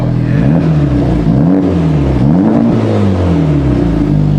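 Close, loud engine of a 2020 Honda Civic Type R with a new exhaust revving repeatedly, pitch climbing and falling in waves with a deep, throaty exhaust tone.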